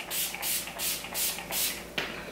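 Makeup setting spray mists onto a face in five even, rhythmic pumps of hissing spray, close and clear, followed by a sharp click from the bottle.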